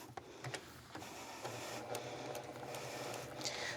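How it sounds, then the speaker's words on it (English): A home sewing machine stitches through a quilt in a steady, continuous mechanical whir with faint rhythmic clicking, moderately close and with no voice. "We're gonna go ahead and sew because I want you to see what this quilt really is gonna look like"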